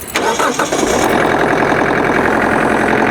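A Kubota LX3520 compact tractor engine settles into a loud, steady idle with an even, rapid diesel rhythm after a brief rougher start, close by and with no voices.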